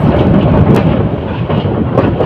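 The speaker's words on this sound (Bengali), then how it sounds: "কন্টেনার পাশে ট্রেন অতিক্রম করে যাচ্ছে ঢাকা থেকে সেরা আসা চট্টগ্রাম আন্তনগর চট্টগ্রাম এক্সপ্রেস" The Chittagong Express intercity train from Dhaka rolls past a line of containers near Bhairab Bazar junction, a loud continuous low rumble and rattle of carriages heard close by, with no voices.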